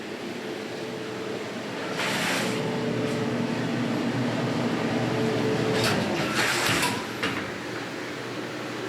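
A hot clothes dryer runs in a house during a walkthrough, giving a continuous, moderately loud mechanical drone with a steady low hum and a few brief rumbling surges.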